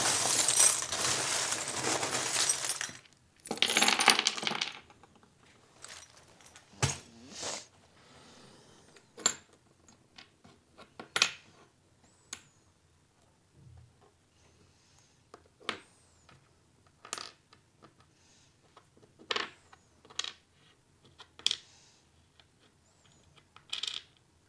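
Small charms are shaken and cast onto a surface for a Scorpio fortune reading with cards. A loud rattling burst is followed by a long series of sparse, sharp clinks and taps, with no talking.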